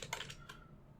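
Typing on a computer keyboard during a Redcore Linux 1806 terminal session, a quick burst of several close, crisp key clicks in the first half second, then quiet room tone.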